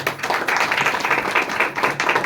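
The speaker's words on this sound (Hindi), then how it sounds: "रेनू के लिए जोरदार ताली बजा दीजिए" An audience claps loudly and steadily for a disabled woman teacher, a dense, continuous round of applause from a nearby crowd lasting a couple of seconds.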